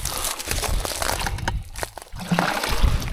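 Fresh water splashes and sloshes into a plastic yabby tub, a continuous trickling pour with crinkly, close-up splashing throughout.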